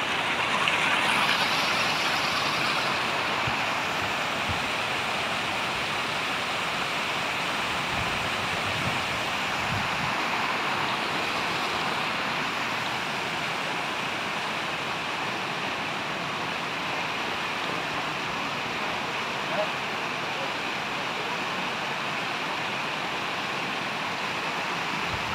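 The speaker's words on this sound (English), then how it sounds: "What a beautiful water fountain" A garden water fountain at Alnwick Gardens in summer splashes in a steady, even rush of falling water, heard from a moderate distance as a continuous soft hiss without talk.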